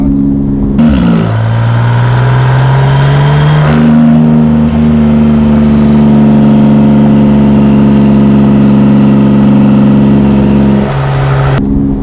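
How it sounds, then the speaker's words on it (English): A Porsche 911 (991) GT2 RS with an IPE exhaust revs up and holds a loud, steady droning exhaust note close by, easing off near the end. "off throttle, you hear a little bit of that burbly noise in the exhaust"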